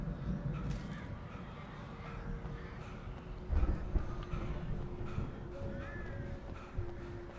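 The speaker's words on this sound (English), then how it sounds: "Hear those crows, man." Crows caw a few times in the distance over a low rumbling background in the video game Alan Wake Remastered, harsh calls rising briefly above the steady noise.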